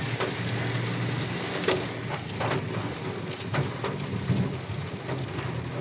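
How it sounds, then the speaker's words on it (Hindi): Heavy rain drums on a car during a drive on the mountain road from Makkah to Taif, a dense continuous hiss with occasional louder thumps, heard from inside the vehicle. "इतनी जोर बारिश और घना घोर बादल छाया हुआ है"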